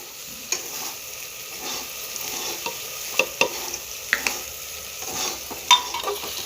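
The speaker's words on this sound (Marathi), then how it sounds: "सर्व मिश्रण चमच्याने हलवून घेऊ" A spoon stirs a masala rice mixture of spices and salt in a pot, giving steady scraping with scattered sharp metallic clinks against the vessel, close and moderately loud.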